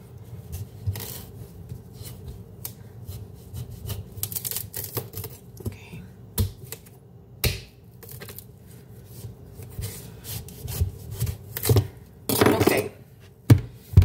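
A knife works through a very large, hard bottle gourd (opo squash), giving irregular sharp cutting clicks and taps over a low background hum, with louder bursts near the end.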